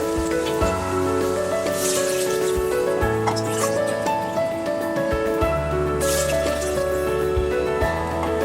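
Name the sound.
water poured into pan of jowar pulao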